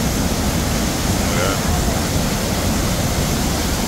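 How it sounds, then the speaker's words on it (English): A large waterfall in Eaton Canyon heard from close by, a loud, unbroken broadband roar of crashing water with no pauses. "I think this is one of the biggest waterfalls I've seen"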